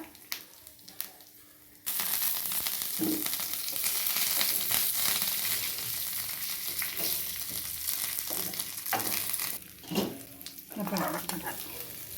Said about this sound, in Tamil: கடுகு போட்டு தாளித்து கொட்டிக்கலாம்